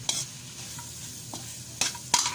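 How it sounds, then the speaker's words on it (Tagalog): Grilled pork sisig with mayonnaise is stirred in a pan, with a soft sizzle under a few brief scraping clacks of the utensil. "At higit sa lahat, mayonnaise. Yun. Haluin natin."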